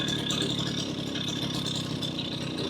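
A Garelli 70cc moped engine runs in gear, a steady close mechanical drone with light rattling, continuous and without pauses.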